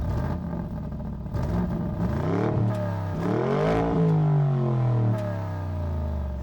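A Bentley Bentayga Speed SUV gets a quick blast, the engine note rising and falling through several close, loud revving surges as it accelerates.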